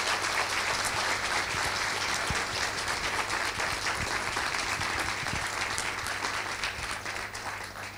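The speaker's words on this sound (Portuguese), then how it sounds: "acho que devemos agradecer e dar uma salva de palmas ao nosso mais recente doutor" Sustained audience applause at an Instituto Superior Técnico lecture honoring the newest doctor, a dense, loud, even clapping from a full room that fades slightly at the end.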